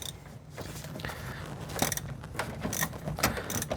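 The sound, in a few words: socket wrench with extension and wobble adapter on brake booster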